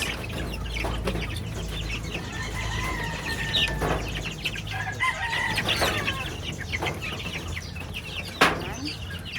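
Crossbred Golden Boy Sweater and Whitetail chickens, chicks for sale, clucking and crowing close by in a pen, several birds calling over one another with a sharp squawk near the end, while a person talks now and then.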